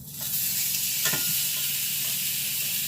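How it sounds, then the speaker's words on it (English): Beef short ribs searing in a pan of hot olive oil on high heat, a loud, steady hissing sizzle with a few brief crackling spurts near the start. "You want to give it a good sear"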